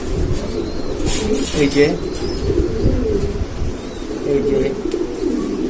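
Pigeons coo in a loft of blue shirting and Lahori birds, soft low calls running steadily under someone talking close by.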